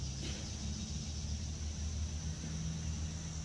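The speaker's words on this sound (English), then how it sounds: "Got some cars rolling through." Cars roll past at a distance, a low steady rumble of traffic with a faint continuous high hiss above it, no voices.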